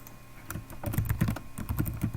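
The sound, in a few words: typing a folder name on a computer keyboard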